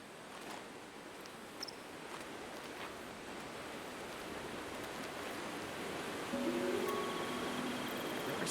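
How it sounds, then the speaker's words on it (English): A flowing river in the video game Botany Manor makes a steady, broad rushing wash that swells slightly toward the end, with faint soft game chimes over it and no talking. "River sounds delightful."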